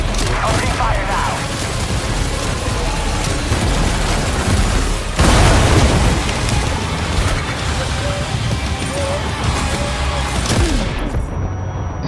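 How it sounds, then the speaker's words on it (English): Dense, continuous barrage of gunfire and explosions in Death Stranding 2, loud and close with a heavy blast near the middle, the roar sustained throughout and a voice briefly heard over it. "Opening fire now."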